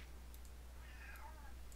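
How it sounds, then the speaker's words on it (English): A cat meows faintly in the background, one drawn-out call over a steady low electrical hum. "My cat is meowing."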